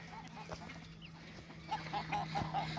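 Hens in a large coop of about thirty birds cluck in short repeated bursts, a few soft calls early and a quicker run near the end, over a low steady hum.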